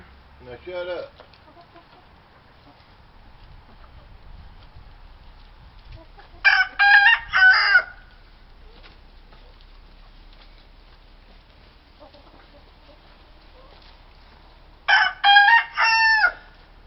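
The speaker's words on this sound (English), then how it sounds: "Sam, you can tell he's the one that's crowing, and he's right there at my feet." A rooster crows twice inside a chicken coop during molt, loud and close with a long pause between, while faint clucking and soft shuffling fill the quiet gaps.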